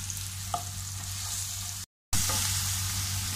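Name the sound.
frying in a pan for potato stir-fry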